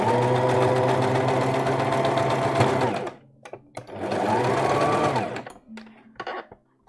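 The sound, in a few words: sewing machine stitching a sleeve seam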